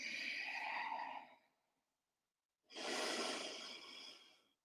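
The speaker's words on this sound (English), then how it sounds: "Breathing in and out through the nose." Slow nasal breathing in a guided yoga flow, one long soft exhale, a pause of silence, then another airy breath through the nose, close and quiet.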